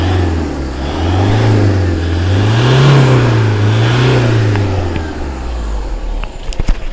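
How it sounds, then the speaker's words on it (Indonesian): A 2012 Toyota Fortuner G VNT turbo diesel automatic revs loudly up and down a couple of times, its engine note rising and falling before settling back to idle, with a few clicks at the end. "Suara dieselnya garing ya bosku."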